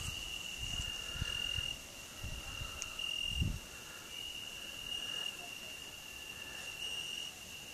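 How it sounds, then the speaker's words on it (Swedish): Crickets in a village at night keep up a steady high-pitched chirring, joined by intermittent low rustles and thumps nearby. "Och det man borde höra väldigt väl är alla syrsor."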